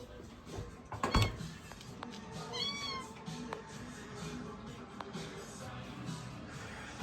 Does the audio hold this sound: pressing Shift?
no